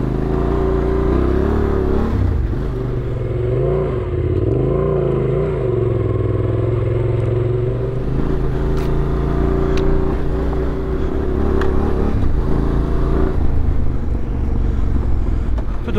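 A motorcycle engine labours on an off-road track of loose, shifting gravel in the Greek mountains, a loud, continuous drone with rising and falling revs as the rear wheel spins and grips, close and without talk.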